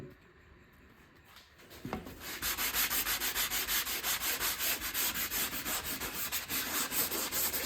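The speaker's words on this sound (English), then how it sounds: "We're just going to sand this down a little bit" Sandpaper works over dried joint compound on a small drywall patch. It is quiet at first, then becomes a steady rhythmic rasp of quick back-and-forth strokes that continues to the end.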